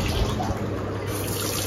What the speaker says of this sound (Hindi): मेरे सारे नलकों में अच्छा प्रेशर आ रहा है पानी का